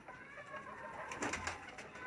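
Sheeda Teddy pigeons cooing softly, a short low murmuring coo with a slight swell near the middle, faint and close with no voices over it.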